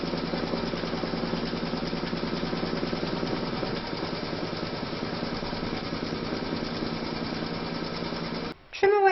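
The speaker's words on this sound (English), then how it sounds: "Pop your hoop into your machine and stitch round number 2" An embroidery machine stitches batting in place in a hoop, giving a steady, fast mechanical whirr and rattle that runs evenly for several seconds before stopping abruptly near the end.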